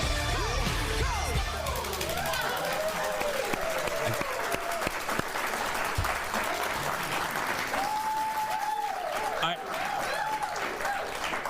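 Studio audience gives a loud, sustained burst of applause and cheering for a standing ovation, with dense clapping filling the room throughout and voices whooping over it.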